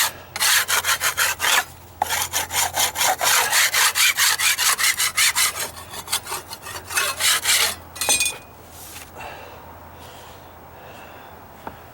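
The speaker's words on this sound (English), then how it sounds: "Now do my rasp. I'll do my rasp some more here" A hand rasp files the old wood of deck stairs during dry rot repair, fast rhythmic back-and-forth scraping strokes, close and loud, in two bursts with a short pause. The strokes slow into scattered scrapes and then fall quiet.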